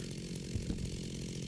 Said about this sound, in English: we've got to go saw some things with our chainsaw